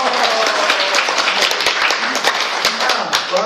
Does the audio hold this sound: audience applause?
yes